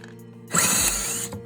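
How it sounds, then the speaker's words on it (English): Someone unscrews the top of an upside-down table with a power driver, giving one short whirring burst of about three quarters of a second between quieter moments, close to the microphone. "Here my husband flipped the table upside down and unscrewing that top."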